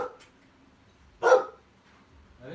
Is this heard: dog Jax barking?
yes